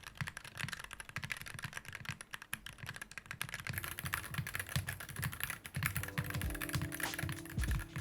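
Keys are typed on a Wooting 60HE keyboard in a fast, continuous flurry of close clicks and clacks. The strokes grow heavier and denser in the second half, and nobody talks.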